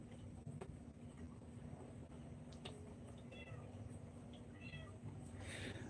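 Several cats meow outdoors, short separate calls rising over a steady low hum and wind buffeting, with a faint voice now and then.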